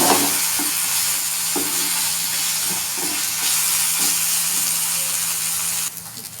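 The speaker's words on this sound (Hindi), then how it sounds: "1 टेबल स्पून हम अदरक लहसुन का पेस्ट शामिल करेंगे। इसको हल्का सा फ्राई करेंगे।" Ginger garlic paste frying in a pan gives a steady, close sizzle and hiss, with a few soft utensil taps against the pan and no talk.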